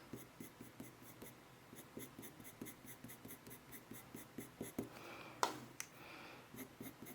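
Colour pencil making fur strokes on paper, a quick series of short, soft scratching strokes repeating in a steady rhythm, faint and close with no talking.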